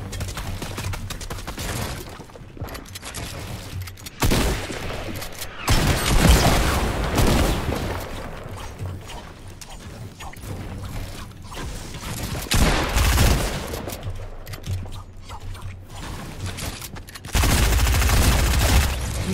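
Submachine gun fire in a shooter video game: repeated loud bursts of rapid shots separated by short quieter gaps, with blasts and crashes mixed in and no talking.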